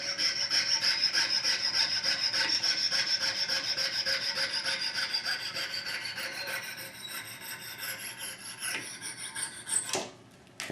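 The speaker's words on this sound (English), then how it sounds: "just slice it off with this jeweler saw" A thin-bladed jeweler saw cuts off a guitar bridge pin in a steady, close rasp of quick fine strokes that runs for several seconds, then thins out and ends with a couple of small knocks.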